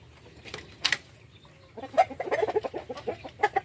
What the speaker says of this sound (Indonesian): Nah, ini ayam jantannya.